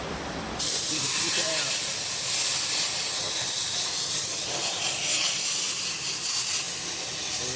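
Brake cleaner sprays in a loud continuous hiss that starts abruptly and holds steady close by in a garage, with a voice speaking over it.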